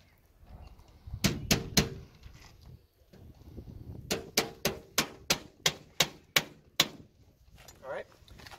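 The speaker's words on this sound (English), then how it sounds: "want to put these trim nails every couple feet and you want to push in and up" Trim nails hammered into fascia board during soffit and fascia work: a quick burst of three sharp strikes, a pause, then a steady run of about nine evenly spaced blows, close and loud, with faint background noise between.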